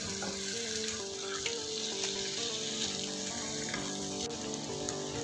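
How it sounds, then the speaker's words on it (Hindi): Chicken pieces frying in warm oil for restaurant-style chicken jalfrezi, a continuous crackling sizzle with scraping and clinking mixed in throughout, no voices. "चिकन को ऑयल में फ्राई करेंगे ताकि चिकन का कच्चापन ख़त्म हो जाए।"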